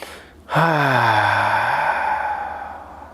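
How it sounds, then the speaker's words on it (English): A single deep exhale out through the mouth during a gentle hatha yoga flow, a close, loud breathy sigh that starts abruptly and slowly fades over a couple of seconds. "Take a nice big inhale through your nose, exhale out your mouth."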